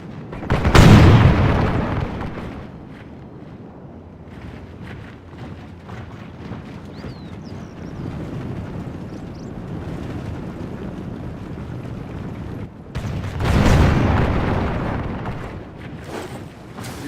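Heavy booms and explosions from a video game battle, two big blasts at the start and near the end with a rumbling, windy din of distant fire in between.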